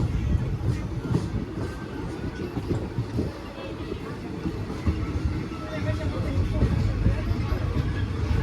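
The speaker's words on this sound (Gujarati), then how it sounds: "અત્યારે આપણે આ ટ્રેન યાત્રામાં ત્રીજા રેલવે સ્ટેશને ખાખરિયા પહોંચી ગયા છીએ." Steady rumble and rattle of a passenger train running on rails during a journey between Jetpur and Kunkavav in Gujarat, continuous and close from inside the moving train, with faint background voices.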